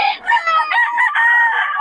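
Sweater Gilmore gamefowl rooster, double banded, crowing loudly and close at a roadside poultry market, one long harmonic crow that carries on for nearly two seconds with no talk over it.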